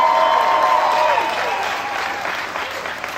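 Outdoor crowd at the AIDS Walk 2015 applauding after a speech by New York Governor Andrew Cuomo, loud sustained clapping and cheering from a large audience, with a voice briefly heard over it at the start.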